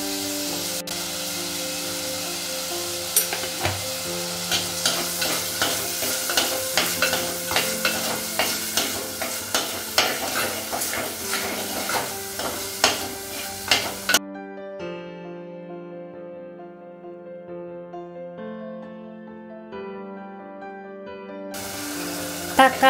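Tomatoes frying and being stirred in a pan for a curry, a steady sizzle with a regular run of sharp spoon knocks. Partway through, a faint tonal hum takes over for several seconds, then the frying sound returns briefly.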